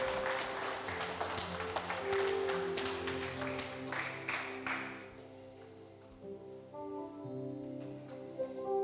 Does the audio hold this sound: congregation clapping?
yes